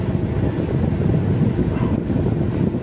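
A car air conditioner fan on a Foton Tornado blows hard and steadily at speed setting 3, a constant loud whooshing rush with no pauses.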